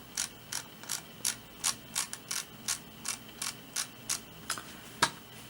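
A dozen crisp, evenly spaced clicks from a Zowie EC2A mouse button, about two per second, close and clear over a faint background hum.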